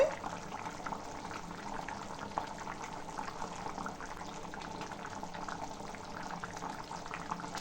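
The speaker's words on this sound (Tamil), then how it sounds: "இதோட நல்லா கொதிச்சிருச்சு" Okra kara kulambu, a spicy tamarind curry, simmering in a pot: a continuous low bubbling burble, steady and moderately close, with no voices.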